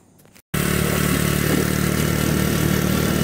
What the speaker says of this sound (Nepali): गाडी बाइकहरू पनि कुदि नै रहेका छन्।